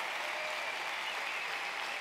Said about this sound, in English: could you please give a nice round of applause for Michelle and her team putting that together?